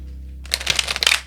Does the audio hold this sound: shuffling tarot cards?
yes